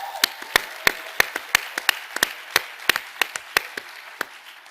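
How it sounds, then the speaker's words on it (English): A handful of people in a fireside chat audience clapping unevenly, sharp separate claps in a loose, irregular rhythm, close and fairly sparse. "If you guys think that Texas should embrace Bitcoin, just start clapping"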